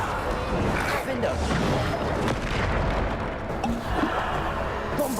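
Bombarda spell explosions in Hogwarts Legacy boom and burst one after another in a dense, loud barrage with no pause, while voices call out between the blasts.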